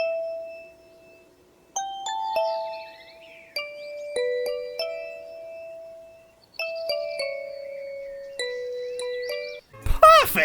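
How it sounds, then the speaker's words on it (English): Bright, bell-like melodic dings of the Sprunki character Sky from a video game, a sequence of sustained chiming tones in short phrases, ending in a brief burst of noise. "Ah, the iconic sound we know very much and very well from good old Sky"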